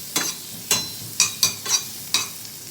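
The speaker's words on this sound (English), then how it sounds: "To melt the butter, I'm adding onions now. Saute it on a high flame." Onions sauté in melted butter over a high flame, with six quick, evenly spaced stirring scrapes over a faint sizzle.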